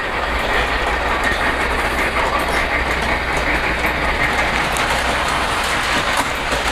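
A toy Polar Express train leads with its bell flatcar across a bridge, its wheels keeping up a steady, close clickety-clack and rumble on the track throughout, with no voices.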